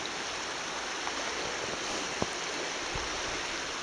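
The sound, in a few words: Weiser River water flowing turbulently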